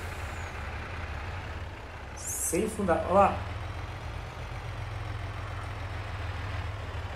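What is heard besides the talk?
500 hp truck engine in Farming Simulator 22 video game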